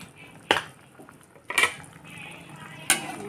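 A utensil stirs Assamese fish curry with tomatoes in a pan, making three distinct metallic clinks and scrapes over a quiet simmering background.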